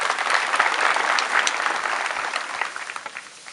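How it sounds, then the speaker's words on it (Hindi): Audience at a gathering honoring farmers and scientists claps in steady, dense applause that gradually thins and fades toward the end. "आइए फिर एक बार से हम सभी लोग किसानों, वैज्ञानिकों का सम्मान तालियों से करते हैं।"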